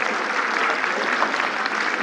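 Audience applause at an Indian theatre presentation, a steady, dense roar of clapping that stays loud and even throughout.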